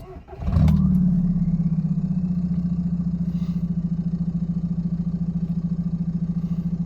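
A VW Jetta TDI diesel engine cranks briefly and catches, then settles into a loud, steady idle with a rhythmic diesel clatter, close by and with no talking.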